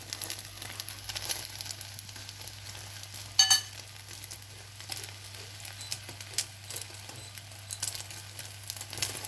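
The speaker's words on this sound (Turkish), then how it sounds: "Omletimiz kendi pişiyor." An egg omelette cooks on its own in a pan, giving a steady, quiet sizzle with faint crackles and one brief clatter partway through, alone without talk.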